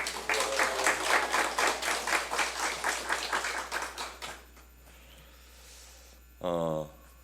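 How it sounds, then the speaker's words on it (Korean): An audience at a church worship service claps together, with dense steady applause for about four seconds that quickly dies away, followed by quiet room tone and a brief voice near the end. "박수 한번 하겠습니다"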